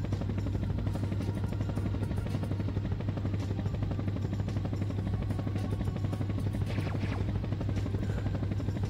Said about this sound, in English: look, the helicopter.